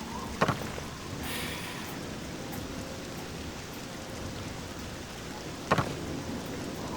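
Steady rain falls in the video game Oblivion, a continuous even hiss that stays fairly quiet, with two sharp brief cracks breaking through it near the start and end.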